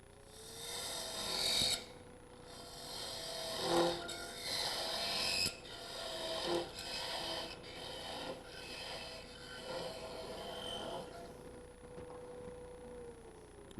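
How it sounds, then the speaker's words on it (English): Flats are hand-sanded onto a turned wooden pencil box in long rasping strokes, close by, with a steady thin tone running underneath and no talking. "So now I just have to sand these flats on it."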